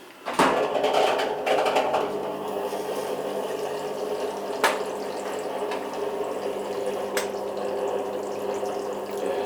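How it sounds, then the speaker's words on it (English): Water gushes steadily from a greywater pipe, a continuous splashing flow with a few sharp knocks and clicks along the way. "Got some good water flow coming out of there"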